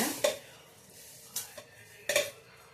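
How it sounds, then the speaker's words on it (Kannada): Fried ingredients are scraped from a pan into a mixer jar, giving three sharp metallic clinks of a spoon against the jar rim, spaced apart and fairly quiet. "ಏನು ಫ್ರೈ ಮಾಡಿದ್ದೆ ಅದನ್ನೆಲ್ಲ ಇದ್ರೊಳಗಡೆ ಶಿಫ್ಟ್ ಮಾಡ್ತಾ ಇದ್ದೀನಿ"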